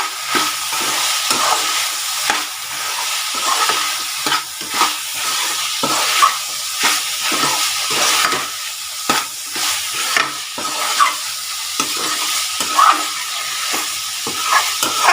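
Fresh curry leaves sautéing in a pan of chicken curry (chicken chinthamani), with a steady close sizzle and frequent stirring scrapes through the whole stretch.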